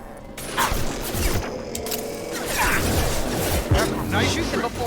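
Gunfire in Mass Effect 2, bursts of clattering shots and mechanical impacts through a noisy firefight, with voices talking over it.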